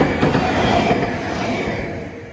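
A late-night test-run train roars past close by at a level crossing, a loud, dense rush of wheels and rails that slowly fades.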